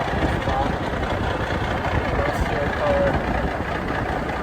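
Rebuilt Cummins-powered International Eagle trucks idle with a steady low diesel rumble, close and constant, while a person talks over the engines.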